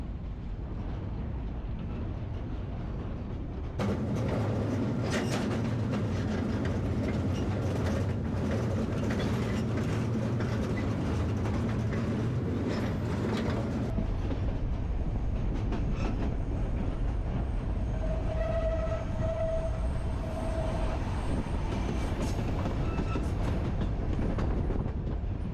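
A freight train passes through a rural area of Brazil between Rio and São Paulo, a loud continuous rumble and rattle of rail cars with clanking, shifting to a steadier roll and a brief high squeal partway through.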